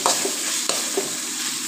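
Chicken and tomatoes fry in a pan for a chicken lasagna, giving a steady close sizzle with a few soft stirring knocks and no voices.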